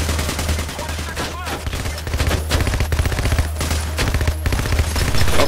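Rapid sustained gunfire from a heist shootout in Payday on the Heat Street map, with dense bursts of shots continuing over a constant low hum.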